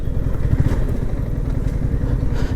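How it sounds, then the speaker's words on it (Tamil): A motorcycle engine runs steadily close by as a vehicle without a number plate is ridden, giving a loud, continuous low rumble with rapid pulsing throb and no speech. "நம்பர் பிளேட் இல்லாத வண்டி ஓட்டிகிட்டு இருக்கிறாங்க"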